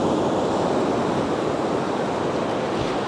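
Ocean surf rolls and breaks on an Outer Banks beach in a steady, continuous wash of broadband noise, loud and close with some wind buffeting the microphone throughout.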